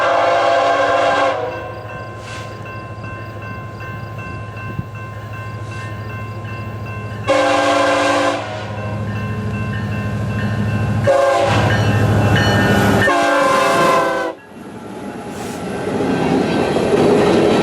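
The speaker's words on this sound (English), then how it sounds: "This coal train is passing" A BNSF westbound empty coal train passing a crossing, sounding several long, loud horn blasts over the continuous rumble and clatter of the passing cars close by.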